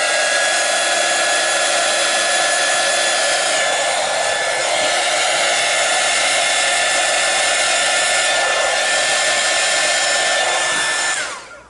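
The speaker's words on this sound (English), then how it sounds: "I'm just going to heat gun it, just so that we can put the next colour on together" Heat gun drying paint on a colouring page: a loud, steady close-up whooshing blower roar with a faint whine, running continuously for about eleven seconds before switching off, with no talking.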